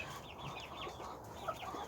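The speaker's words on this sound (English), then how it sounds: "that is Cottontail, he's another silky rooster," Silky rooster named Cottontail, a silky splash, making soft clucking calls in a farmyard, a short run of repeated murmured clucks over steady background noise.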